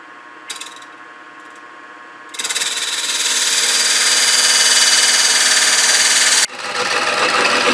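A wood lathe parts off the bottom of a turned wooden jewelry box. A loud, steady cutting whir with a scraping edge starts a couple of seconds in, runs for about four seconds, drops briefly, then resumes. No one talks.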